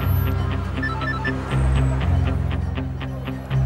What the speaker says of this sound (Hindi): किसका फोन आ रहा है, अननोन नंबर,